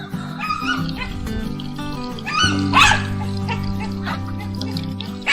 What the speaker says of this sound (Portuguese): Os cães estão doidos, latindo